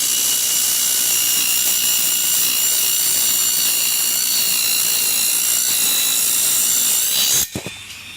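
Table mini circular saw with a high, steady whine cutting into 2 mm aluminium, loud and continuous for about seven seconds, then the blade stops abruptly with a brief clatter and a fading spin-down.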